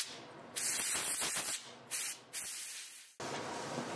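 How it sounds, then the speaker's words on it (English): Canned air sprays in several sharp, loud hissing bursts of varying length, blowing a wax and oil mixture out of the nooks of a cube puzzle, with short quiet gaps between blasts. "Then I used some canned air to spray out any of the wax oil mixture that was trapped in any little nook and cranny."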